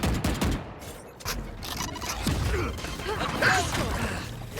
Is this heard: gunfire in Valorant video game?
yes